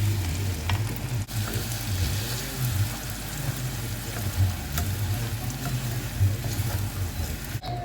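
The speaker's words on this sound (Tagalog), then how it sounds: "nag-caramelize na yung sugar natin. Ilalagay na natin yung kanin." Cooked rice is stirred into caramelized sugar for biko, a steady close sizzle with the scrape and churn of stirring running continuously, no voices.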